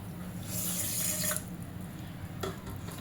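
Water runs from a tap in a steady broadband hiss, swelling briefly louder near the start, then settling into a quieter flow with a short splash near the end.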